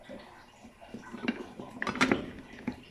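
Pressure cooker lid being set on and fitted in a kitchen, a few light metallic clanks and scrapes, clustered near the end, under a person talking.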